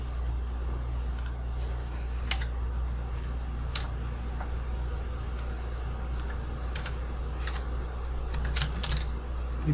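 Computer keyboard keys tapped for a Ctrl minus zoom shortcut while working in Power BI: scattered, irregular close clicks over a steady low hum, with no talking.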